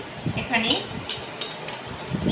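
Two eggs being stirred in a bowl, a few light clinks and scraping taps of a utensil against the dish, close and soft, with speech over part of it.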